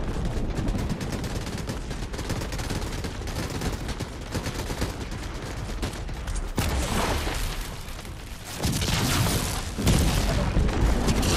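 Rapid gunfire in Fortnite blasting down a tree, dense continuous shots and booms throughout, growing louder toward the end.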